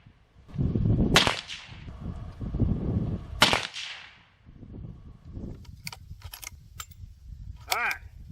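Two sharp, loud rifle shots from a .350 Legend Winchester, fired at a 100-yard target on a windy range, each cracking hard and then decaying. Wind rumbles throughout, with some faint clicks and rattles afterward.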